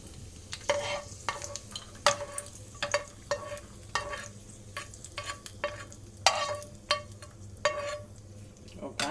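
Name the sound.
cashews and raisins being stirred and roasted in pan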